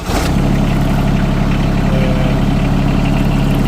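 A John Deere X700 series lawn tractor engine idles steadily and loudly up close, a constant low hum with a brief starting burst at the very beginning.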